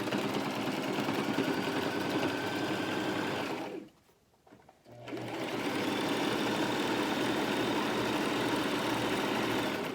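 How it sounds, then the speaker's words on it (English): A sewing machine stitches a Christmas stocking body in a steady, close mechanical whir, cutting out briefly in the middle before resuming its even running for a locking stitch. "Start sewing, give it a locking stitch."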